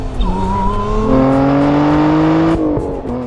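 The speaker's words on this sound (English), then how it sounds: "That's the default, a 6-speed manual and a supercharged V6" Lotus Emira with a supercharged V6 and 6-speed manual, its engine note rising steadily as it accelerates through a gear, loud and close, then a brief dip at a shift before pulling again.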